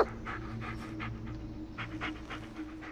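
A dog pants rapidly and steadily close by in the Blair Witch video game, quick breathy puffs repeating throughout over a low ambient hum.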